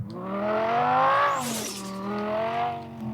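A car engine in the Car For Sale Simulator video game revs up, climbs to a peak, drops with a brief whir, then rises again, loud and close throughout.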